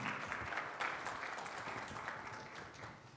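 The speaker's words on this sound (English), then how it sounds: "Come give him a round of applause." A conference audience at Meet Magento Singapore applauds as a consultancy owner is introduced, a faint but steady spread of clapping heard from some distance and continuing throughout.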